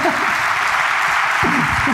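A live audience claps and cheers during a comedy podcast recording, a dense loud round of applause with voices and laughter breaking through briefly near the start and again toward the end.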